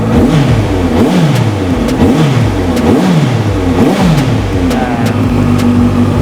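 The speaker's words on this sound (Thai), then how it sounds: "เดี๋ยวเราจะลองเบิ้ลเครื่องยนต์กันให้ฟัง" A Honda CB650F motorcycle engine fitted with an exhaust silencer insert is revved repeatedly, muffled, rising and falling in a regular series of throttle blips over a constant rumbling idle.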